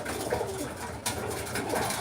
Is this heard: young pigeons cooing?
yes